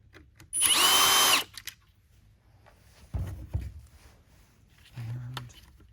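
Screws come out of a Shark IonFlex vacuum power nozzle with a power driver: one loud, high whirring burst near the start, followed later by quieter, lower bursts and small clicks of handling.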